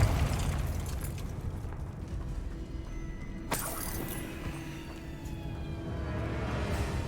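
Confringo fire spell cast in Hogwarts Legacy, heard as a single sharp burst a few seconds in over a steady rumble of game ambience and music, with no talking.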